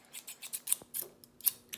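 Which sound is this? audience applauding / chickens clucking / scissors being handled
scissors being handled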